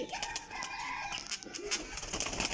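Pigeons, including a Kajal female from a pigeon keeper's flock of twenty females and five males, give soft cooing calls and rustles against a busy background of other birds, continuous and moderately close.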